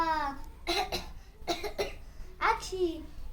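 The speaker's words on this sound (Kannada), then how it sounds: "ಕೆಮ್ಮು ಶೀತ ಆದಾಗ" A child gives acted coughs during a Kannada action song performed at a school cluster-level talent competition. Several short, close coughs come in bursts, with childlike vocal sounds between them.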